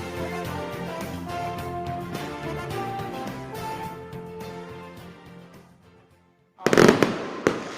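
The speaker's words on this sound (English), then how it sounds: "Fireworks flying at Prince George's Stadium as Erie wins tonight, 6-3" Fireworks burst at a minor-league baseball stadium after a game, a loud cluster of cracks and booms arriving near the end, following several seconds of music.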